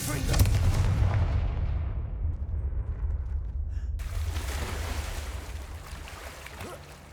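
In Hogwarts Legacy, a Confringo spell sets off a loud explosive blast that booms at once, then fades through a long rumbling tail with a second burst of crackle midway.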